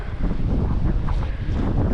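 Steady wind buffeting the microphone, a continuous low rumbling roar with no pauses and no voices.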